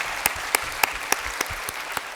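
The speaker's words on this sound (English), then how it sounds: "Let's give another round of applause to our panel." Applause for a panel at a conference afternoon session comes through as spaced, evenly timed sharp claps roughly every quarter second, distinct over a faint room background.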